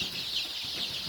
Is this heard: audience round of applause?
no